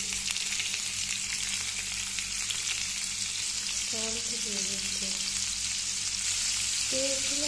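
Spices crackling in hot oil in a pan while cooking a fish curry, a steady close sizzle and frying hiss running throughout, with a few brief tonal stirring scrapes partway through.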